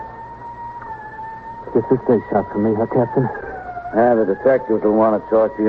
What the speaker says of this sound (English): you think that's the ambulance? Yeah, sounds like it.